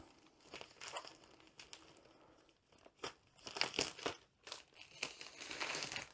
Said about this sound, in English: So the cellophane is nearly off.